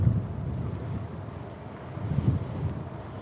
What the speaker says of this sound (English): Wow, that one's nice little gust right there.